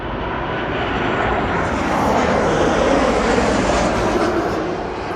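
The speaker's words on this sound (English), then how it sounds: "that jet noise was brought to you by Allegiant Airlines" An Allegiant Airlines jet flies overhead on a clear night, its engines giving off a loud, steady broadband roar that fills the whole stretch without letting up.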